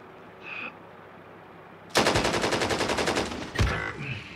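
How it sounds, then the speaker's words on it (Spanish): Automatic gunfire in Call of Duty on Rebirth Island: a rapid, loud burst of shots hammers for over a second, followed by another sharp shot and a faint high tone. "Están disparándome."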